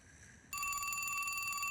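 Telephone ringing, a bright steady electronic ring that starts abruptly and continues loud and unbroken over faint background tone.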